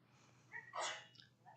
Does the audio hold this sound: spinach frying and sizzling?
no